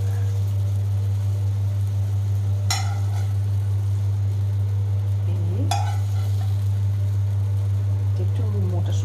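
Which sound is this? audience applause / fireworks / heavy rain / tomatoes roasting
tomatoes roasting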